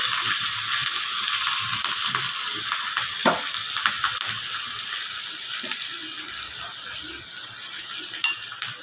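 Chopped green chilli sizzling in hot oil for a tempering, with a steady crackling fry running throughout, close and fairly loud, with a few sharper pops and one brief clatter near the end.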